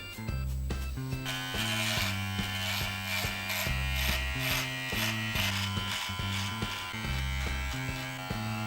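A Braun HC5090 electric beard trimmer runs against neck stubble, a close buzzing motor whose pitch dips and rises in short repeated strokes as it cuts through hair.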